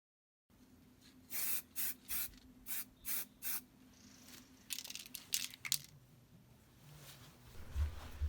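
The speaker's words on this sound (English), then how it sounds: "This time I'm using zinc spray." A zinc primer spray can hisses onto a Citroen XM car part in six short, evenly spaced bursts, followed by a few quicker, more irregular sprays and faint handling noises, close and alone.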